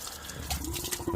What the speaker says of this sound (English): You get a bit of water come out